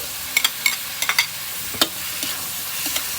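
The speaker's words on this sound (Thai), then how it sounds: "แล้วเราก็ผัดผัดผัด" Vegetables for Thai nam prik ong are stir-fried in a hot pan, a constant sizzle broken by a handful of scraping spatula strokes, near and moderately loud, with no voices.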